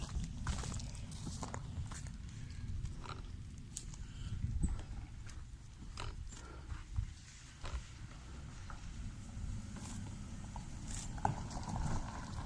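A donkey's hooves clip-clop steadily along a road on a walk, a regular near rhythm of hoof strikes over outdoor background noise.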